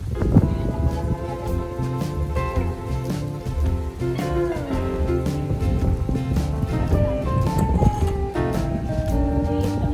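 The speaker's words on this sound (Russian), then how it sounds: "погода офигенная, но ветер, ребята, ветер просто нереальный" Strong wind roars steadily across a Caribbean beach in Aruba, buffeting the microphone with dense, loud low rumble for the whole stretch, with no speech.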